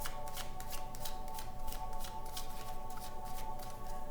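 Tarot cards shuffled by hand in a steady riffling rhythm, a continuous soft flutter of card edges close to the listener with no one talking.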